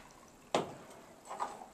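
Martini mix is poured over ice in a cocktail shaker: a sharp clink and splash, then a softer trickling pour, close and quiet with no talking.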